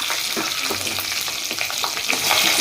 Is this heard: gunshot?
no